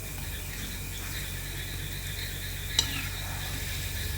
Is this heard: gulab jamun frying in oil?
yes